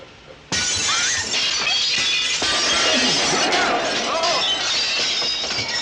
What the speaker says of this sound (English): the glass in the window of the truck just breaks out of nowhere